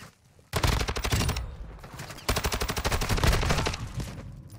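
Rapid automatic gunfire from a Call of Duty Modern Warfare 2 multiplayer match, two loud sustained bursts of rattling shots separated by a brief drop, close and dominant.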